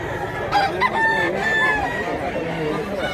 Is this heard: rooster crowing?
yes